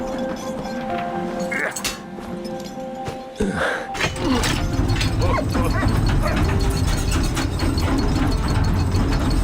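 Dog barking in the video game Valiant Hearts, a few short yips and woofs near the start over game sounds, then a dense wash of in-game noise and mechanisms fills the rest.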